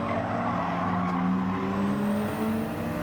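Race cars in Gran Turismo 7 drone with high engine tones that rise and shift while jostling for position, the whine steady and close, with a light tire squeal in between.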